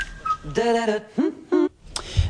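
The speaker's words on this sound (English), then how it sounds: "It was a cool little a cappella song with the whistling" Bright, pure whistled notes in short phrases, separated by brief pauses, with soft vocal harmony beneath, from an a cappella song; melodic and fairly close.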